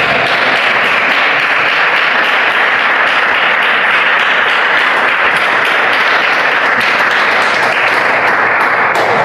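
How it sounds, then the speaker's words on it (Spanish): A church congregation applauding loudly and continuously, a dense wash of many hands clapping that holds steady throughout. "Denle un fuerte aplauso"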